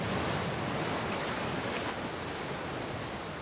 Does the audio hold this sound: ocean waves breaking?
yes